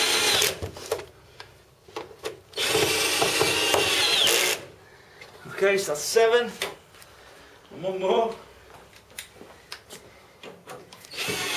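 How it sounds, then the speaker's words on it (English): A small cordless drill drives screws into a euro guest bed frame in several short whirring bursts of rising and falling pitch, close by. A person speaks briefly between the bursts. "If you've got a little drill, you just need a little drill bit"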